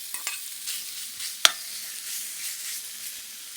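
Lamb for haricot of mutton hits a hot pan, producing a soft steady sizzle close by, with a single sharp metallic clank partway through and no talking.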